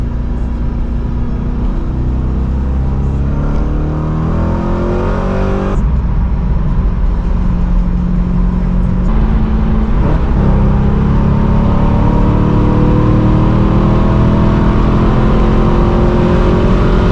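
A Corvette C5 Z06 on new wheels and tires accelerates hard, a loud, close engine roar rising through several gears with pauses at the shifts, continuous for the whole stretch with no talk.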